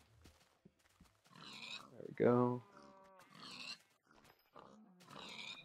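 Pigs in the Minecraft video game giving a few short game-sound grunts and squeals, one loud oink in the middle, interleaved with someone talking over the gameplay.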